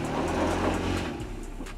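A Toyota FJ Cruiser's engine drones steadily at close range as the off-roader pushes up a steep obstacle, a loud continuous mid-pitched hum with slight shifts in pitch.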